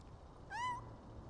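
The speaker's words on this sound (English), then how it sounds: "Am I hearing like a cat meow or something?" A single short cat meow, faint and distant behind a steady low background hum, rising and falling over about a quarter second.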